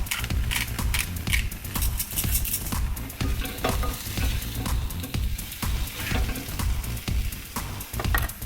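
Toad-in-a-hole bread frying in a pan: a steady, close sizzle with crackling pops and occasional stirring or scraping sounds throughout, no voices.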